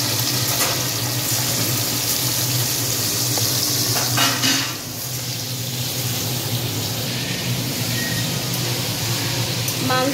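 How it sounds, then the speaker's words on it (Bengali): Chicken korma pieces fry in hot oil in a pan, a steady close sizzle and crackle running throughout with occasional stirring and utensil clinks, no talking. "এবারে একটা একটা করে তেলের ওপর দিয়ে একটু ভালো করে ভেজে নেব।"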